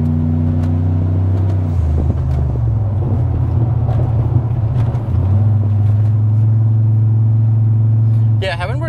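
A turbocharged Maloo with a built engine and gearbox, making about 650 wheel horsepower, accelerating hard from the cabin: a loud droning engine with rising and shifting tones, a gear change, and a brief burst near the end, while people talk throughout.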